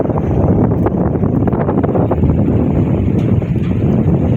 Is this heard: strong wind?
yes